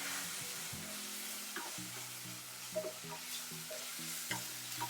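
Onions and green chillies sautéing in a pan, a soft continuous sizzle with light intermittent stirring scrapes, fairly quiet and with no talking.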